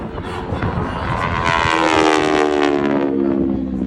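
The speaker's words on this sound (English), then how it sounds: "Roll the airplane upright, and a maneuver we call the half Cuban 8." An aerobatic propeller airplane maneuvers at an airshow, flying a half Cuban 8 loop. Its engine note swells and shifts in pitch as it climbs and rolls, loud and fairly near, alone without talk.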